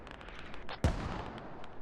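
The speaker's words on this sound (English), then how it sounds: "You actually have the barrage. You start it right on their Hab. The first couple shots will actually land right about here" Marine mortar barrage shells landing in a military video game, a single sharp distant blast thumping once amid low battlefield rumble and faint scattered pops.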